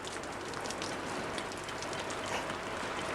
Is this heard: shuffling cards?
no